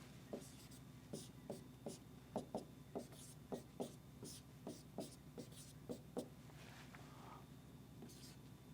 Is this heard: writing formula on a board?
yes